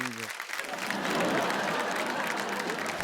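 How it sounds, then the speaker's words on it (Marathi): Studio audience of women on a Marathi game show breaking into hearty applause, a steady dense clapping wash that swells in after a brief voice at the start and holds to the end. "एकदा जोरदार टाळ्या होऊन"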